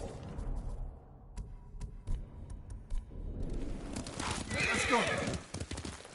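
Horse hoofbeats clop steadily during a ride in the video game Ghost of Tsushima, with a whinny rising near the end, under brief speech and background score.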